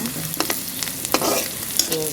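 Rice stir-fried in a pan, with a spatula scraping and clinking against the metal in short strokes over a steady close sizzle.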